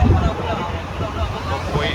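A motor boat nears on open water off Kanyakumari, its low engine drone steady under wind buffeting the microphone and the wash of water, with a faint murmur of voices in the background.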